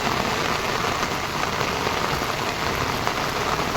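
Dense, continuous downpour of heavy flood-causing rain pattering on surfaces in a village, loud and unbroken throughout, with no voices.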